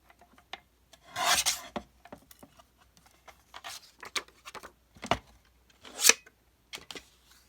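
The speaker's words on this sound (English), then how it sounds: "let's trim up this bottom piece just a little" Scissors or a blade trimming a piece of craft paper, giving a few short rasping cuts close by with quiet gaps between strokes, no talking.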